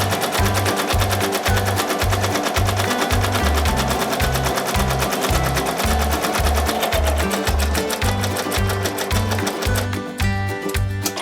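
A sewing machine stitches an appliqué bunny onto a quilt with a fast, steady mechanical chatter, loud and close, running continuously before slowing and stopping near the end.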